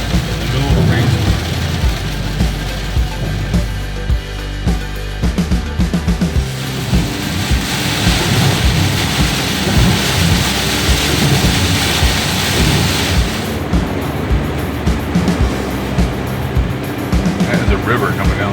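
Heavy rainstorm with thunder in Towanda, Pennsylvania, a dense continuous roar of rain with deep rumbles, heard loud and steady from a moving car throughout.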